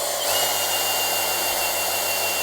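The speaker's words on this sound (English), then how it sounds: "let's spin the drill" Power drill spinning steadily to prime the oil system of a cammed small block engine with break-in oil, a continuous close whine after a brief start-up, no speech.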